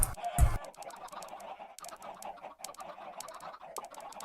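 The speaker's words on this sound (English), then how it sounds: "Yeah, I've got well over 100 chickens here." Well over a hundred chickens in the Minecraft video game cluck continuously in a dense, overlapping chorus, with a louder burst near the start.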